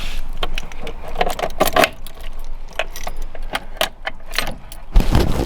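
Car keys jangling in the ignition of a 1977 Toyota Celica, a close, bright run of metallic jingles and clicks lasting several seconds with a brief thump near the end.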